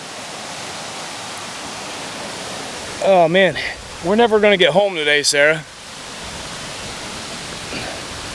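A waterfall beside a backpacking campsite near Spruce Knob, West Virginia, pours as a steady, broad rushing wash that runs through the whole clip, with someone talking briefly over it.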